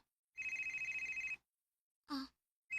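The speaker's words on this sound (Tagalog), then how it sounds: "Nanawag manigbalik si Manoy Jose?" A phone rings with an incoming call, giving a steady electronic trill that is moderately quiet. A short sound follows after a pause, and the next ring starts at the end.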